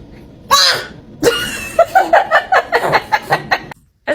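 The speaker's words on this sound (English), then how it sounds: "That's her sneeze." A newborn baby sneezing: one sharp sneeze, then a burst of quick, rhythmic little sneezing and hiccup-like huffs, close and fairly loud.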